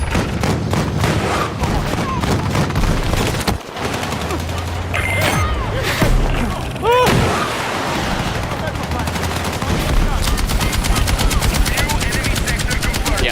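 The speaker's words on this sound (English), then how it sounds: "It really gave weight to the explosions and the gunfire and the bigger weapons versus the smaller weapons." Battlefield video game combat, with rapid bursts of automatic gunfire, heavier weapon shots and booming explosions that crack sharply and pile over each other at close range, building into continuous rattling fire near the end.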